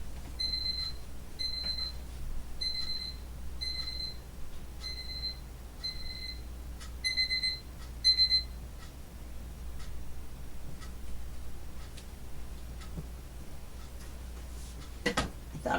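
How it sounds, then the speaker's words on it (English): A 5 a.m. alarm clock beeps in repeated short double-tone bursts, about eight sets over eight seconds, fairly close and clear over a low steady hum, then stops. "I forgot to turn my 5 a.m. alarm off."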